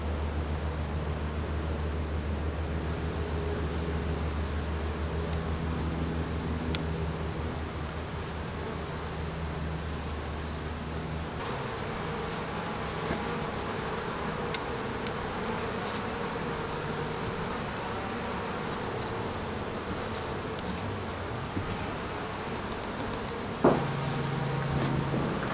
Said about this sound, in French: La ruche de Freya va assez bien, mis à part le fait qu'elles veulent faire un autre essaim